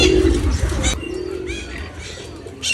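Pigeons at a zoo cooing in low, throaty repeated calls, fairly loud and near, with brief chirps from other birds and a busy outdoor background.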